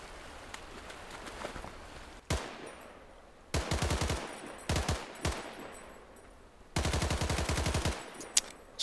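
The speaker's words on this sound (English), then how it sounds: "I'm getting an insane amount of recoil from this Tommy gun." Tommy gun firing in the World War II shooter game Days of War, in several loud automatic bursts of rapid shots separated by short pauses, with a lone sharp shot before them.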